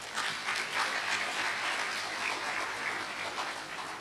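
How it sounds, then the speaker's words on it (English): Audience applause at a university leadership lecture, a steady wash of many hands clapping that holds at an even, moderate level for the whole stretch, slightly distant, with no voices over it. "I thought you were going to clap."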